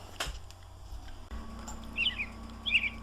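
Short, high bird calls in two brief bursts near the end, faint and somewhat distant over a low steady background hum.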